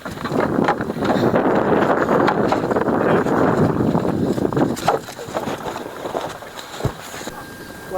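A small country boat moves across river water, with steady rushing water and wind buffeting close by. The sound stays loud for most of the stretch, then thins out toward the end.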